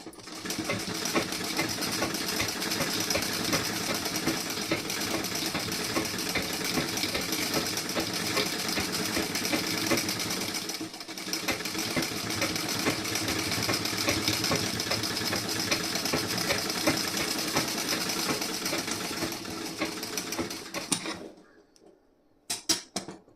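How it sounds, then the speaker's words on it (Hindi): A sewing machine runs continuously at a fast, even rattling pace while stitching a garment's sleeve and back panel, loud and close for about twenty seconds before stopping abruptly near the end. "यहाँ पे मैं एक सिलाई और लगाऊंगी"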